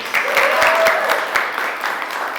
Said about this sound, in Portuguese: vamos aplaudir os nossos irmãos.